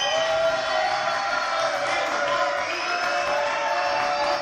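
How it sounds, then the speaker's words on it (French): Studio audience at a French comedy news show applauding and cheering, a thick, continuous wash of clapping with raised voices mixed in, loud and sustained throughout. "Applaudissements"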